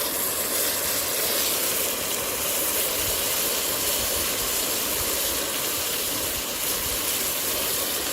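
An MSR XGK EX camping stove burning on a simmer setting gives a loud, steady roaring hiss close by, broad and unbroken from start to finish.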